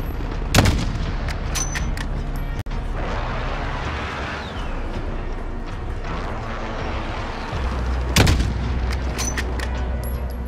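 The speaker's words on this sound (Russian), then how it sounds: "Внимание! Союзник выполняет авиаудар." Airstrike explosions in Call of Duty Warzone rumble steadily, with two sharp, loud blasts near the start and end over a continuous low roar of battle.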